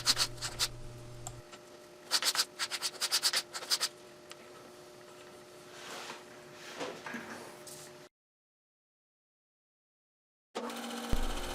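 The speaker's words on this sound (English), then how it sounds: "I continue sanding the remaining segments" Segments of wood for a segmented bowl base ring are sanded by hand, giving close scratchy rubbing strokes in short bursts, then a pause of near silence before a louder rasp returns.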